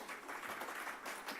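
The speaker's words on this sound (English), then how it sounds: "Please a big round of applause for Emily." A conference audience applauds after a speaker wraps up at a tech and AI event, a steady, fairly faint wash of clapping that holds for the whole moment without pause.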